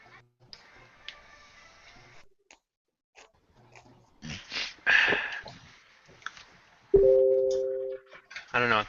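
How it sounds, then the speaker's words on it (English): A computer notification chime rings out during a live Gunpla model-building session, a short bright tonal beep that stands out over quiet room noise, with scattered clicks and brief talk nearby. "Somebody got a notification on the computer."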